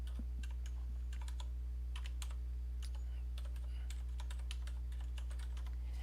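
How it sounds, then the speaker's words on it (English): Quick, uneven keystrokes clatter on a computer keyboard during live Emacs Lisp coding, faint and steady over a constant low hum, with no talk. "let me type it quickly"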